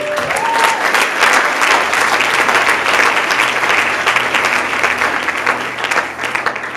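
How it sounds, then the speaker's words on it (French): A church conference congregation applauds loudly and steadily for the word of God, dense sustained clapping filling the whole stretch with a faint organ tone near the start. "quelqu'un peut m'aider à acclamer la parole de Dieu"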